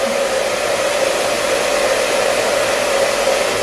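Steady, loud hair dryer blowing continuously to heat a styling brush while shaping permed short-to-medium hair, an even whooshing roar with no pauses or voices.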